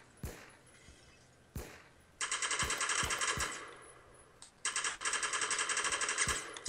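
Gunfire in the Roblox Phantom Forces shooter game: two long bursts of rapid automatic fire, crisp and close, with several single loud shots before, between and after the bursts, no talking.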